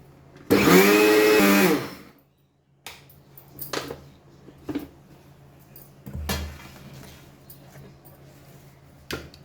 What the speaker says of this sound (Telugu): మొత్తం అంతా కలిపి ఒకసారి మిక్సీ కొట్టాలి